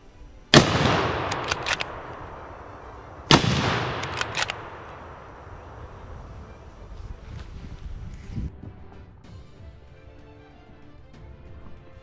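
Rifle shots ring out at wild boar during a driven big-game hunt: two loud, sharp cracks a few seconds apart, each trailing into a long echoing decay over wind and faint outdoor ambience, with a fainter distant pop later.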